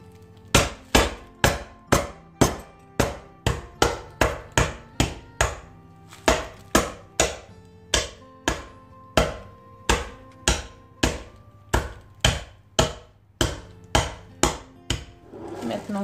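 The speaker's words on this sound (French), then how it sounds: "Je ramène un rouleau et je vais les casser." Steady, loud whacks of a rolling pin crushing M&M's inside a freezer bag on a counter, about two blows per second with brief pauses, no talking.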